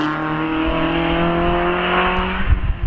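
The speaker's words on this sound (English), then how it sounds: "Steve Perry then in the MX-5 towards the end of his run." A Mazda MX-5 races up the Prescott hillclimb course, its engine note loud, close and sustained as it holds high revs, ending in a few rougher bursts.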